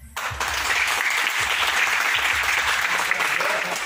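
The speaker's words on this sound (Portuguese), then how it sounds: "Pede palminha." Audience applause at a circus show, a dense, steady wash of clapping that starts abruptly and holds loud and even throughout.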